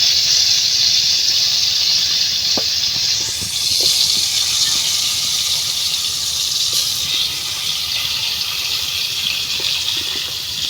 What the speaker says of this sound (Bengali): তেল আমার গরম হয়ে গেছে এখন আমি আস্তে আস্তে এই যে বড়া আমি দিয়ে দিতে